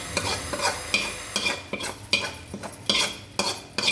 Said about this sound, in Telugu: ఈ పోపు వేసేస్తున్నాం ఇందులో